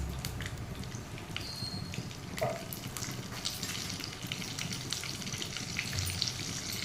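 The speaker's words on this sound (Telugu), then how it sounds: "ఇట్లా పోపు అన్నమాట ఇది పచ్చడికి" Cumin, mustard seeds, chana dal and two dried red chillies fry in hot oil as a tempering for a tomato and ridge gourd chutney, with a soft continuous crackle and sizzle and scattered small pops.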